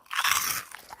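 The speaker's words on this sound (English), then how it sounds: "Listen to this crunch." One sharp, dry crunch as a Korean snack is bitten, close to the mouth, followed by faint crumbly chewing and no talking.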